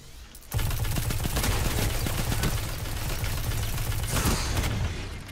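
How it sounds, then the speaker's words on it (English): Rapid sustained gunfire in the video game Destiny 2, a loud continuous fusillade of automatic shots starting abruptly after a brief quiet moment and rattling on without pause to the end. "Motherfucker shooting me through a wall"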